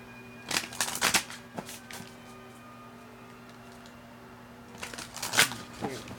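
Oracle cards being shuffled by hand: two close bursts of papery riffling and flapping, with a quiet pause between them and a faint steady hum underneath.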